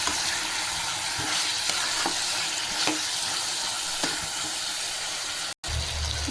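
A spoon stirs ginger garlic paste into a drumstick chicken curry in a hot pan, giving a steady sizzle broken by soft scraping strokes every second or so and a brief gap near the end.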